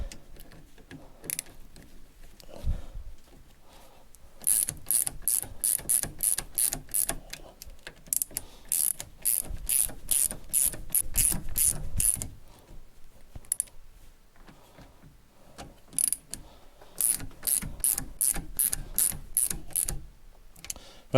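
A ratchet driver tightens brake bolts on a Lotus Evora during a front disc and pad replacement. Up close, bursts of rapid pawl clicking come in quick ratcheting strokes. Short pauses separate the bursts, and no one speaks.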